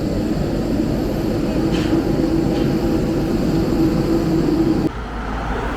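A jet airliner at Paro airport in the mountains of Bhutan rumbles loudly and steadily with a droning engine roar. The sound cuts off abruptly near the end.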